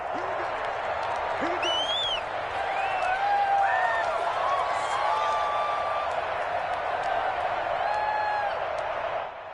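Football stadium crowd roaring and cheering steadily after a Broncos touchdown and kickoff, a dense sustained mass of voices with whoops and whistles rising above the din throughout.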